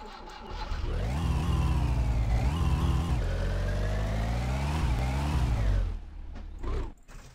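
A car's starter motor cranks in the driving game My Summer Car, a loud steady whirring drone with wavering pitch that runs for several seconds, then stops with a few short sputters.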